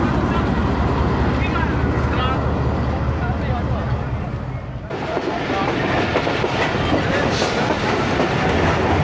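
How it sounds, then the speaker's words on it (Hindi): The Ghouri Express passenger train pulls out of Sangla Hill Junction, wheels clattering rhythmically over the rails with a loud steady rumble from on board, while someone talks over it. "सिंगल विसल पे ही रवाना हो गई है ट्रेन।"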